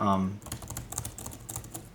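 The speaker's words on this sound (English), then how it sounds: "we have the Magic backlit keyboard" Rapid keystrokes on the Magic backlit keyboard of an M3 MacBook Air, a quick irregular clatter of light clicks following a brief voice at the start.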